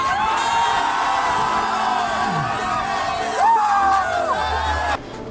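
A group of travelers screaming and cheering together right after a countdown, a sustained loud burst of whoops and yells that holds steady before cutting off abruptly near the end.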